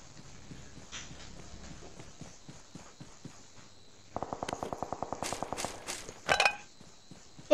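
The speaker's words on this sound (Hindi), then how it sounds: "फुटस्टेप्स की आवाज आ रही है।" Quick, evenly spaced footsteps patter across a quiet background in the game PUBG, followed by a couple of sharper, louder thumps.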